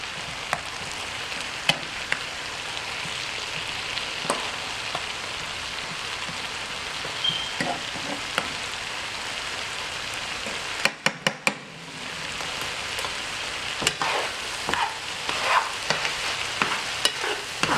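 Shrimp and vegetables fry in a skillet with a steady crackling sizzle, while a utensil scrapes and stirs in occasional sharp clicks; there is a short pause midway before the sizzling resumes.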